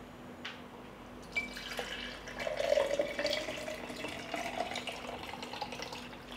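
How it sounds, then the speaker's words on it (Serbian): Boiled liquid being strained from a pot into a jar, a thin steady trickle and drip of pouring liquid with a brief clink near the start, close and fairly quiet. "I sada ću ovu tečnost procediti u jednu teglu"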